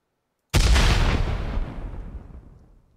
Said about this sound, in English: Rocket launcher explosion.